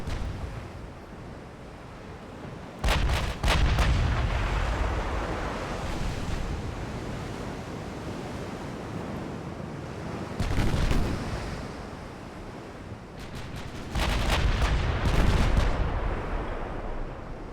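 Naval artillery in the warship game Ultimate Admiral Dreadnoughts, several heavy booming salvos rolling out over a constant wash of sea and wind, each blast deep and loud with a long rumbling tail.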